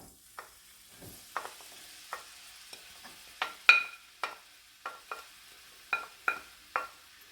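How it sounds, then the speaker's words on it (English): Peppers, onions and garlic stirred in oil in a skillet over medium heat, a faint low sizzle broken by a dozen or so light scraping and tapping stirs at an uneven rhythm, close by and without talk. "I'm going to saute this until they're soft."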